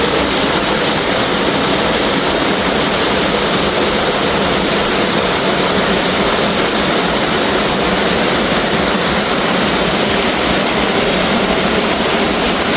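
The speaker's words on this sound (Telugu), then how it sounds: "మనకి వాటర్ ఫాల్ దగ్గర అయితే ఉన్నాం" Vealangi waterfall with a modest flow of water, a steady broadband rush of falling and splashing water that stays constant and fairly loud throughout, with no voices.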